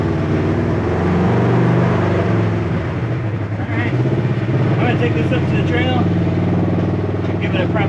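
Motorcycle fitted with a Mother Clutcher primary clutch riding toward a trail, its engine droning loud and steady throughout with shifting pitch, while a voice talks over it in the middle.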